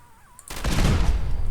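A modded Ultra Missile Shotgun fires in Fallout 4, a single loud, close blast that breaks out of quiet game ambience and rolls on as a long, rumbling barrage of explosions to the end.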